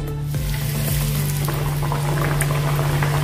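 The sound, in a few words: jowar puris frying in hot oil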